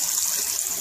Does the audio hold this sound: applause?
no